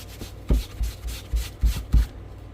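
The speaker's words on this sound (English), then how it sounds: "So you're just wiping that film off, buffing that" A cloth buffs the stain film off a tooled leather belt in soft, rhythmic rubbing strokes, about half a dozen brushing pulses close by.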